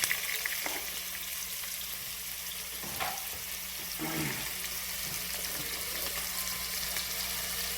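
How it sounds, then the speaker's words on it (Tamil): Small-cut onion sautéing in oil in a pan for egg masala, a soft continuous sizzle with occasional stirring clatters and faint watery sounds, no voices. "ஒரு வெங்காயம் மட்டும் நம்ம சின்னதாக கட் பண்ணி எண்ணெயில் போட்டு வதக்கலாம்."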